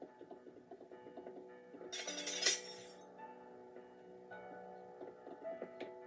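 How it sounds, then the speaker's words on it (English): Glass smashing in Minecraft: a bright, crackly shatter burst lasting about a second, heard over steady tonal background music. "smashing glass in Minecraft actually does sound really nice."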